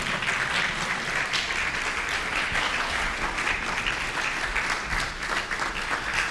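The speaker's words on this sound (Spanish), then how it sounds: "Pongámonos de pie y démosle un aplauso al Señor" A church congregation rising to applaud, producing dense, sustained clapping from many hands that fills the room at an even loudness for several seconds.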